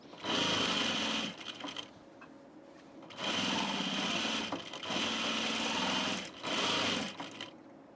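Sewing machine stitching an unlined blazer in three long runs of fast, buzzing stitches separated by short pauses, up close with no talking.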